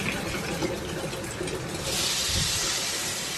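Half a cup of water poured into a pan of vegetables and vermicelli, a soft continuous splashing that swells brighter and louder partway through.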